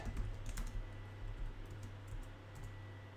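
Rapid keystrokes as a password is entered on a computer keyboard, a steady patter of close, quiet taps over a low background hum, with no talking.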